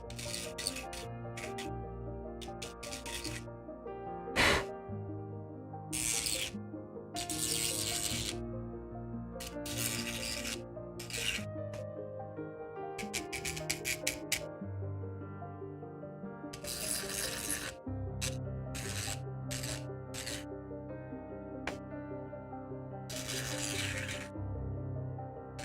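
A Dremel rotary tool grinds on a Warhammer Baneblade model in a series of short, faint, whining bursts separated by quiet handling noises.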